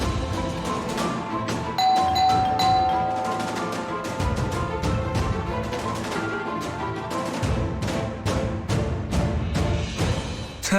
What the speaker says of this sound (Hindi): तीन बार घंटी बजाने के बाद भी इसको समझ क्यों नहीं आया कि मैं आया?